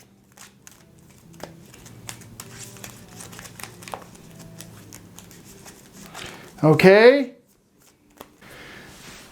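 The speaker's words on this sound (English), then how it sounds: "So let me shuffle a little bit more." A deck of game cards for the Marvel Champions card game is riffle-shuffled in one brief, loud burst of flicking cards near the mic, with soft handling noise and a short spoken word around it.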